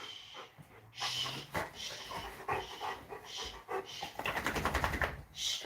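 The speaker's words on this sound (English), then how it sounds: "Why are you panting, honey?" A dog pants rapidly indoors, with quick rhythmic breaths close to the microphone that grow heavier toward the end. Someone speaks softly now and then.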